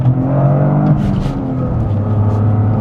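Toyota GR Corolla with four-wheel drive pulling hard in second gear on a short straight, the engine note rising steadily then dropping briefly as revs shift before climbing again, loud and close from inside the car, with no talk.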